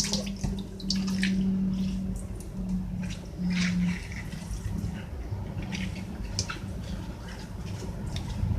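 Water draining and splashing in a kitchen sink while cabbage is prepared for rolls, a close steady wash of water with small drips, squishes and a low hum.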